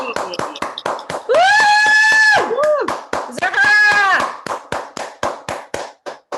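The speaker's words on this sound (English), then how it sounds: "Big round of applause." A handful of people clap in a loose, sparse rhythm at an online gathering, with a voice calling out a long, drawn-out cheer that rises over the claps twice before the clapping thins out.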